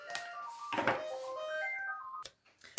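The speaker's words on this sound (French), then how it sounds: "mon téléphone a sonné" A mobile phone rings with a bright melodic tone, rising and falling notes playing for about two seconds, with a few clicks and handling knocks around it.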